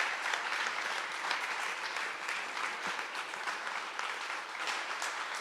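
An audience applauds steadily for a founder and CEO at a talk, a dense, even clapping that holds at a constant level throughout without cheering or voices.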